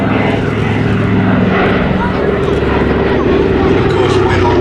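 A Douglas C-47 Dakota propeller aircraft flies overhead at an air festival, its steady loud piston-engine drone and propeller hum filling the whole stretch, with a commentator's voice underneath.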